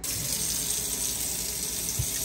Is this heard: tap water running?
yes